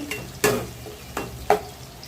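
Shallots sauté in a pan for a pickle, with several distinct stirring scrapes and clatters over a low, steady sizzle, alone and close.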